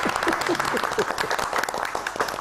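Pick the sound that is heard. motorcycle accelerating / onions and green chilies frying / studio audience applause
studio audience applause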